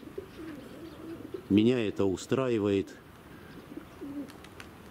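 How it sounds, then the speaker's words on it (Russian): Pigeons coo close by, a short burst of several throaty rolling coos in quick succession, with someone talking quietly before and after. "Есть голуби."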